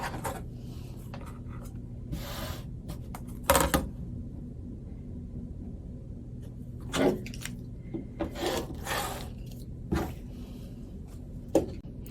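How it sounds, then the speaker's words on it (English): Fabric strip being cut for gift wrap, with several short scraping, rubbing strokes spaced irregularly over a quiet steady background hum, no talking. "So I'm going to cut my first strip to match the width of this square."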